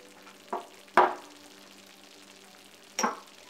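Spices and tomatoes cook in a kadai for chole, with a faint steady sizzle and three brief scraping stirs of a spoon against the pan, the second one loudest, and no talking.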